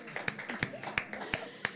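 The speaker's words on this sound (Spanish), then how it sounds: "Un aplauso espontáneo" Scattered, sparse hand claps ring out at a round-table panel discussion on open innovation: a handful of sharp, separate claps at uneven intervals, fairly faint, over low room murmur.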